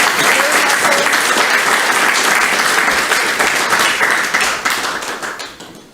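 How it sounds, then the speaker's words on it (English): An audience at a keynote talk event breaks into full, dense applause for the speakers, loud and sustained before tapering off toward the end. "Another round of applause for our amazing speakers."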